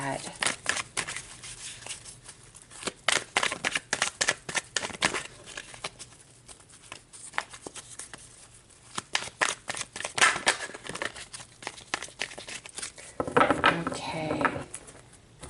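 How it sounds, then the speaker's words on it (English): A deck of tarot cards is shuffled by hand in repeated bursts of riffling and flicking, close and crisp, with pauses between and a denser shuffle toward the end. "let's shuffle up the tarot and see what that has to add"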